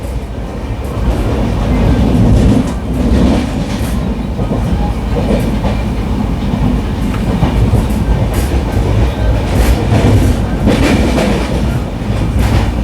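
Mumbai Rajdhani express train, number 12952, running on the tracks near Vasai: loud, continuous rumble of wheels with rhythmic clickety-clack from the rail joints and occasional louder surges, heard close from inside a first AC coach.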